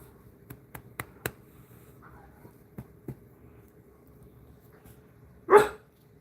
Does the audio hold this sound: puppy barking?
yes